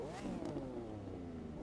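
Car engine in The Crew 2 firing up and revving, a rising then settling mechanical drone heard faintly and alone for under two seconds.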